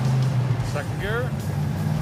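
An Oldsmobile Cutlass, unbolted seat and doubtful tires, runs along the road in second gear, its low engine drone steady and close beneath a voice talking over it.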